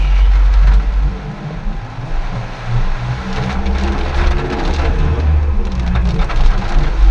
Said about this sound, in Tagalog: Bumuhos na naman ang ulan.